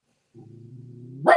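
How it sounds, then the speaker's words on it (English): A pet dog indoors during a home yoga session gives a low drawn-out growl that rises into a single sharp bark at the end, close and fairly loud. "Mila, can you please not bark?"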